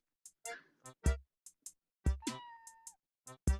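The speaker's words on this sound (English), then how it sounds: "This has a kitty cat meowing in it." A cat meows repeatedly within a played song, several short close meows mixed with plucked musical notes and one longer drawn-out tone.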